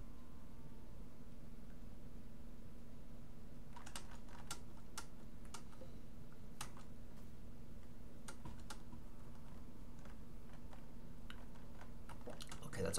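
Computer keyboard typing in scattered short bursts of quick clicks over a steady background hum, heard without talk.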